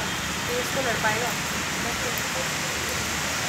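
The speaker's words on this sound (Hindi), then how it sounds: "तो ख्याल रखो आप लोग बारिश हो रही है" Steady broadband hiss of rain falling outside a gym in Andheri, constant and moderately loud throughout, with faint voices murmuring underneath.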